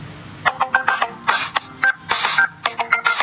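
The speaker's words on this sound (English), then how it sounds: "this is a ringtone" A ringtone plays on a Masstel Fami 12 phone, a rapid choppy electronic tone pattern of short bright beeps and bursts repeating in quick rhythm, fairly loud and close, with no talking.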